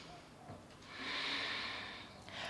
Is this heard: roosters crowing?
no